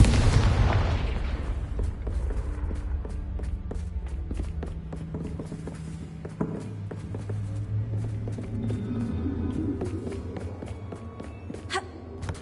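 A loud Confringo fire spell blast from the Hogwarts Legacy video game opens with a booming burst, then fades into a low rumble with scattered footsteps and small pops.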